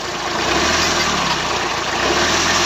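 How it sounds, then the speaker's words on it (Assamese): An engine idles steadily with a low, uneven rumble from misfiring, close and continuous throughout. "ইঞ্জিনৰ আৱাজ এনেকুৱা হৈ গৈছে"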